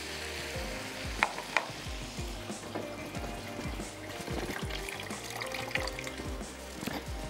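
Pieces of boti meat fry in oil in a pan for an Afghani boti dish, a steady close sizzle with repeated stirring and scraping knocks throughout, and no talking.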